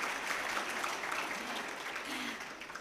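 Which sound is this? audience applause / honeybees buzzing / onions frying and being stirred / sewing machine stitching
audience applause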